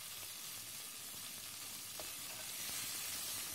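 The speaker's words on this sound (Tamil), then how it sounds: "இப்போ இந்த வெங்காயத்தை சேர்த்துக்கலாம்." Onions frying in oil with ginger garlic paste for biryani, a steady soft sizzle that holds at a low level throughout, close and alone with no voices.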